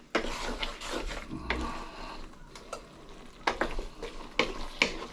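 Food with an egg frying on a sizzling plate, a steady close sizzle broken by scraping and stirring clinks from a utensil against the metal.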